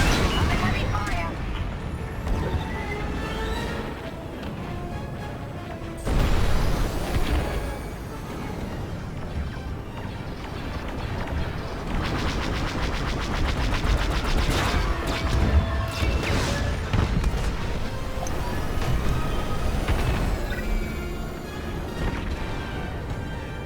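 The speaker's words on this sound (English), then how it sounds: "Under heavy fire." Heavy laser fire and explosions in a Star Wars Squadrons space dogfight against a cruiser, a dense, loud barrage of blasts and crashes with sudden bursts around the middle, under radio chatter from voices.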